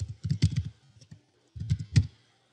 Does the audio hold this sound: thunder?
no